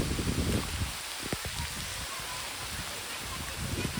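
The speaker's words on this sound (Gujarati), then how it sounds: "વરસાદ આવી ગયો" Steady rain hisses over a surface, a broad continuous wash of drops with some faint low thuds mixed in.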